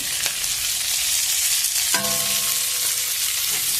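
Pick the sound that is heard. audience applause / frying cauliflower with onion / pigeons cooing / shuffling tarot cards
frying cauliflower with onion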